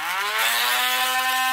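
A small, cheap $9 motorized grinding tool running on a shell. It gives a steady, close, high-pitched buzzing whine that rises slightly in pitch through the short burst.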